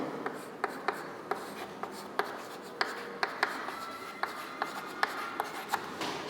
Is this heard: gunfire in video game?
no